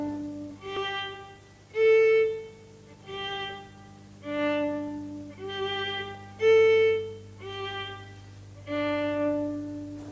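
A violin sounds repeated sustained notes played off the resonating point, each bowed tone swelling and fading in a steady series of about seven notes over a low steady hum.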